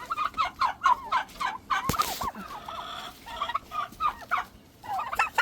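Cornish Cross meat chickens, one week old, in a backyard chicken run give a steady stream of rapid high peeping chirps in repeated bursts, close by, with a sharp clatter midway and no talking.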